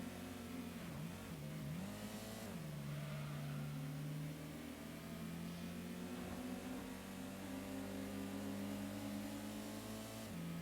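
Race car engine in Gran Turismo 1, a steady mid-pitched drone that rises and dips as the car revs and shifts, loud and continuous throughout with no talking.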